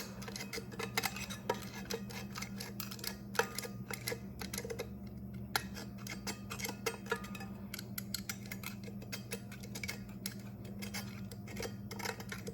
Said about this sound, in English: I actually don't have to scrape as hard with my X-Acto knife